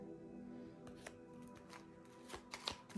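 Tarot cards being shuffled by hand, a quiet run of soft papery riffles and light taps with a few sharper flicks near the end, close and alone.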